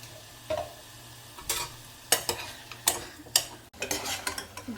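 Mutton with turmeric and salt is stirred in a pot: a series of scraping, rasping strokes at an uneven pace, with sharper clacks against the metal. Close and moderately loud, with no talking.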